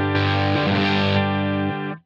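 Electric guitar through a Line 6 Helix preset rings out with a sustained, heavily distorted chord, thick and effect-laden, held for about two seconds before cutting off; no voices.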